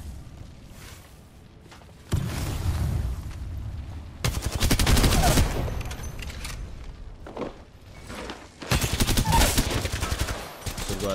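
Rapid automatic gunfire in the Apex Legends video game, loud bursts of rattling shots in several separate volleys with short quieter gaps between them.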